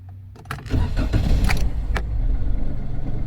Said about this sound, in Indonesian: Oke, mobil sudah hidup,